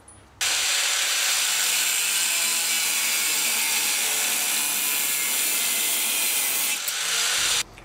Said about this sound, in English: I need to cut them to fit, cut them to length here